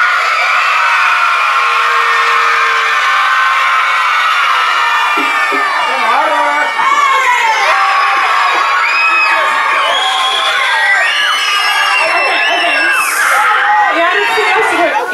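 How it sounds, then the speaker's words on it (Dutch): A crowd of children at the opening of a youth village event shouts thank you as loudly as they can, a long, loud burst of massed shrieking voices that slowly breaks up into scattered screams and whoops. "gaan jullie op je allerhardst dankjewel schreeuwen"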